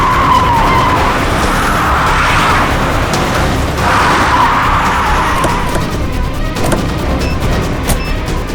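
A car's tyres screech loudly in a long continuous skid to a stop, the squeal dominating throughout with engine noise beneath and no voices present, in a tense roadside police scene.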